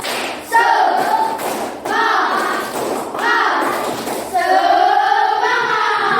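Children in an elementary classroom do a rhythmic spirit-clap routine, sharp claps and thumps in short patterned bursts mixed with their voices chanting along, loud and close.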